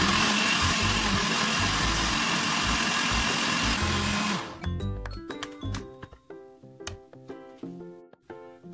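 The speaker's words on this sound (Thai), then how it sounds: "ปั่นทุกอย่างให้เข้ากันเลยค่ะ" A blender whirs loudly and steadily for several seconds mixing egg, milk and Oreo brownie batter, then shuts off, leaving scattered clinks and scraping of a container.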